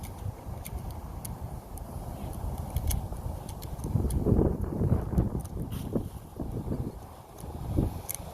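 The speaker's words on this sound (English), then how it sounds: "It is really windy today." Strong wind buffeting a microphone outdoors, continuous rough rumble with gusts that swell midway, a few faint clicks on top.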